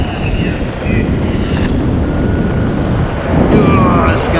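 A strong headwind roars and buffets the microphone during a coastal paragliding flight, a loud, close, rumbling rush that surges stronger near the end.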